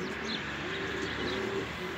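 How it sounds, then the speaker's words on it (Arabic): Kirkuk tumbler pigeons coo softly close by in low repeated murmuring calls, faint and steady over quiet outdoor background noise. "اليوم اكو غربة بس شنو قوية، طيور قوية وين نزلت ماشي"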